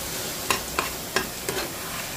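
Brinjal and onion chili curry sizzles in a pan, with a steady frying hiss broken by four light scraping stirs spaced about half a second apart.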